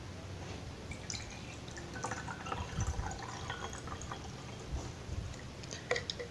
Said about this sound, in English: we'll put normal water in the first glass